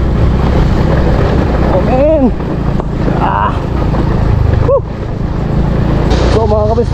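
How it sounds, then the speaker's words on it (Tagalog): A motorcycle rattles and roars while descending a rough downhill dirt road in Zamboanga del Norte. A loud, constant engine and wind rush fills the clip, and a rider makes a couple of brief exclamations over it. "Bakalampag sa motor."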